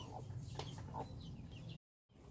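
A small Korean cheonggye hen sitting on a clutch of eighteen eggs in a nesting box gives soft, low clucks and short murmuring calls, close and fairly quiet, broken by a moment of silence near the end.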